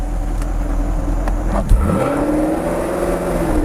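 A 2019 Camaro SS or 3-valve Mustang engine revs nearby with a steady, rough roar, one sharp blip standing out midway.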